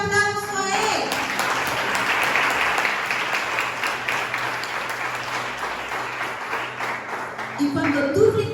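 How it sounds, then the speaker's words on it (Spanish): A church congregation bursts into sustained applause during a Sunday celebration service, a dense, steady wash of many hands clapping that fills the room for several seconds before fading near the end. "Dale ese aplauso a él."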